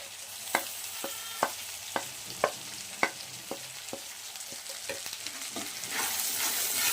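Spice masala fries in a pan under a steady sizzle while a utensil taps and scrapes against the pan in regular clicks, the frying swelling louder near the end, with no one talking.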